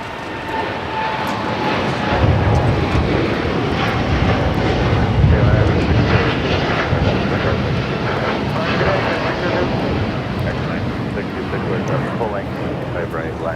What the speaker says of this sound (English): This is KLM Flight 602 taking off to Amsterdam on the 787-10 Dreamliner.